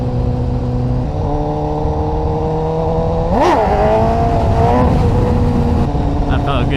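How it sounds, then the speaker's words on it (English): A 2016 BMW S1000RR 1000cc motorcycle accelerates through rising engine revs with gear shifts, heard loud and close from the rider's position, with a sharp rev spike midway. "It's a 1000cc motorcycle"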